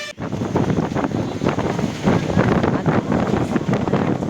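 Strong wind rushes steadily through the open front window of a moving bus, a constant loud roaring buffet with no voices.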